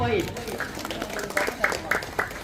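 An audience at a neighbourhood quiz contest claps in a brief, scattered burst of applause, with a voice speaking over and around the clapping.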